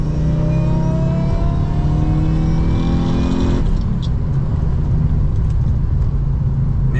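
A supercharged manual Lexus GS400 accelerates at wide open throttle with the air conditioning on, a loud droning engine note rising steadily in pitch, then a brief drop as it shifts gear and pulls again, heard from inside the car.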